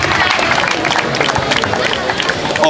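An audience applauds at a football club's team presentation, loud, dense clapping from a crowd with some cheering and murmur, sustained throughout.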